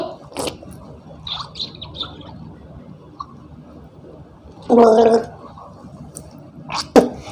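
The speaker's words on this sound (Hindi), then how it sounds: "अब हमारा कुल्ली हो गया है।" Someone gargling and rinsing the mouth with water during wudu, a short bubbling gurgle close by after quiet splashes and trickles of water, with a brief sharp spit or splash near the end.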